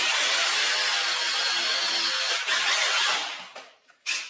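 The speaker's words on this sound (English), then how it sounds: "you don't want to run the drill too hard" A power drill drives a screw into a concrete wall while an electrical box is installed, a loud continuous whir that cuts out, then restarts briefly in a short burst.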